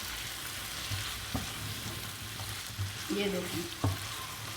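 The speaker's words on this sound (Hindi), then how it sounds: "2 मिनट के लिए इसको भून लेंगे" Mutton kebabs sizzle steadily in masala in a handi, with a continuous frying hiss and occasional stirring knocks and scrapes. A voice speaks briefly over it.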